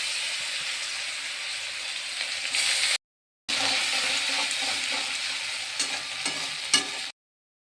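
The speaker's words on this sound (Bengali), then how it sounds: "তেলের মধ্যে একটা শুকনো লঙ্কা দিয়ে দিলাম, পুরো জিরে দিয়ে দেবো। কেটে রাখা পেঁয়াজ দিয়ে দেবো একটা।" Chopped onion fries in oil with whole cumin and a dry red chilli, making a continuous hissing sizzle with stirring. It breaks off briefly partway through and then resumes.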